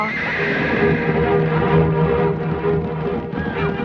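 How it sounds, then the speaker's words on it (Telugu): A wild horse in a Telugu comedy film scene gives a loud, drawn-out whinny that carries a slight echo, with no speech over it. "గుర్రం వెనక్కు పోతుందో."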